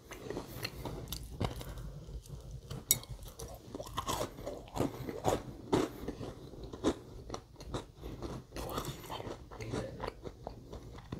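Close, crisp crunching as someone bites and chews crusty bakery bread, a rapid irregular series of sharp crackly bites and chews, loud and intimate with no talk.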